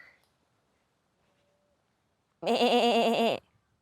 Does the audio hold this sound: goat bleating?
yes